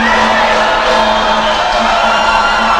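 At a men's college basketball game between Snow College and North Idaho College, a gym crowd gives a loud, steady roar with scattered whoops around a free throw.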